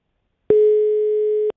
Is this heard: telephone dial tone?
yes